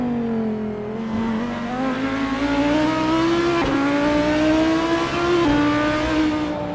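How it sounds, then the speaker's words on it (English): A BMW GT race car accelerates hard during GT World Challenge qualifying at the Japanese Grand Prix circuit. The engine roars loud and close, its pitch climbing steadily, with brief gear-shift dips before climbing again. "Ian just ahead in the BMW, gets it all wrong in the final corner, takes it straight to the pits"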